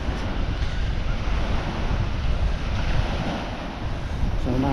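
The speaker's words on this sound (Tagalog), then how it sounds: "So medyo maalon siya ngayon." Rough sea waves at the shore in Lobo, Batangas, a continuous loud roar of surf with blustery wind buffeting the microphone, steady throughout with no voices.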